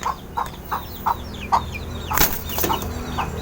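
Breeder rooster and chickens in a backyard pen cluck in short repeated bursts, with sharper calls and a rustle of movement toward the end, close and clear with no talk.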